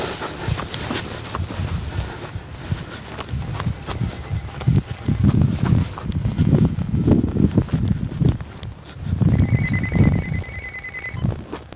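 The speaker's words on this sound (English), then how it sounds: "Phone." A telephone bell rings in a steady, repeated trill near the end, over a noisy, rumbling background of movement and handling.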